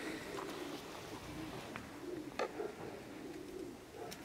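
A long-distance marathon racing pigeon gives soft, low coos in a quiet loft, several short calls repeating faintly with brief pauses.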